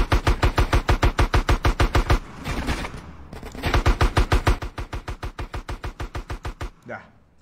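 Rapid automatic gunfire in GTA San Andreas on PC, two long evenly spaced bursts of loud shots separated by a brief noisy gap, ending in a short trailing sound.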